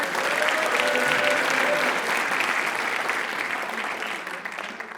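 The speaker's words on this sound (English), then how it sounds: "let's give a round of applause to Mr. Reichert." A room full of people applauds a presenter at a school writers expo, dense continuous clapping that stays strong and slowly tapers over five seconds.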